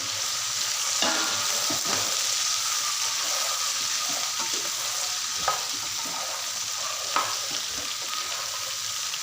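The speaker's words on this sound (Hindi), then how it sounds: "तो अब हम इसमें डालेंगे और इसे अच्छी तरह से भून लेंगे।" Small pieces of cut okra (bhindi) fry in hot oil with a constant close sizzle, broken by a few utensil knocks and scrapes as they are stirred.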